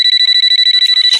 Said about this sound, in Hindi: फोन की घंटी बजते ही